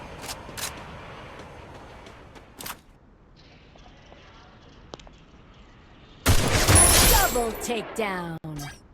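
Scattered single gunshots, then a loud burst of rapid gunfire with echoing reports in the video game Free Fire, with a voice talking in between.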